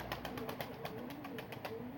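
Pigeons coo softly in a repeating rhythm, joined by a fast regular clicking or tapping, all at a low, steady level with no talk.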